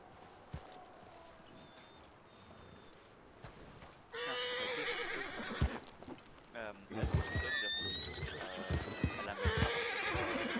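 In a western roleplay video game, a horse whinnies loudly twice and hooves clip-clop nearby, while people talk in French throughout.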